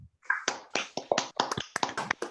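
Scattered applause from online meeting participants unmuted at an author showcase: a short run of sharp, uneven hand claps, fairly close and clear, with no talking.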